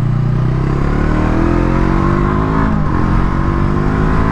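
Brixton Crossfire 500 motorcycle engine under way on the road, a loud, steady close-up drone with layered harmonic tones that dip briefly mid-clip before holding again, with no talking.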